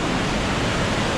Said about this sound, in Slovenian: Dol je še cel kup slapov.